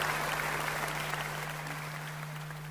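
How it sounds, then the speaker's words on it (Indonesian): Audience applause greeting Puan Maharani, Speaker of the Indonesian House (DPR RI), at a gathering: steady, dense clapping from a crowd, moderately loud and continuous, fading slightly toward the end. "Kita berikan tepuk tangan."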